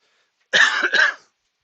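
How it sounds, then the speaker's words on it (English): A single short tickly cough in two quick bursts, close and fairly loud, with silence before and after. "I've got a tickly cough, that's all."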